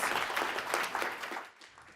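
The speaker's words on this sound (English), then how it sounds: "big round of applause" Audience applause follows a debate speech on machine learning and optimisation, a steady wash of moderate, somewhat distant clapping that fades out near the end.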